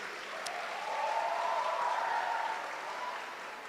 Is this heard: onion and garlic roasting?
no